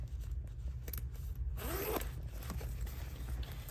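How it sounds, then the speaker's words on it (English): A zipper on a sling bag's main compartment is pulled open in one continuous, close rasp against a steady low background hum, with no talking. "they both have 2 zipper pulls to open the main compartment."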